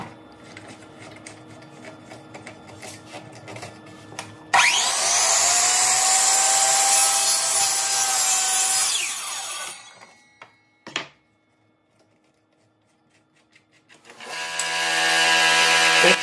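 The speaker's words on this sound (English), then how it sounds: "Once I line up the blade with the first cut, then I will secure the board using a clamp," A saw blade cuts through a clamped board, a loud, harsh whining burst lasting several seconds that fades out, followed by quiet and then a second loud cut starting near the end.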